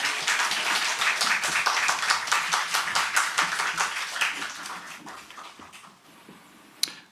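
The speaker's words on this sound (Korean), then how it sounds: "응원의 박수 감사합니다" A church congregation at Sunday worship gives warm, fairly rhythmic applause for a speaker. It holds steady, then thins and fades, and one last sharp clap rings out near the end.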